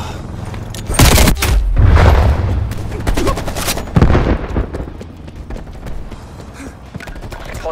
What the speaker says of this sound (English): Hostile artillery targeting active. Artillery inbound.